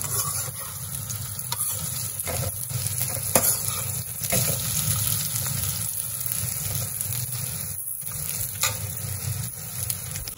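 Bitter gourd slices fry in a pan with a steady, close sizzle and intermittent stirring scrapes, continuous throughout with no talking.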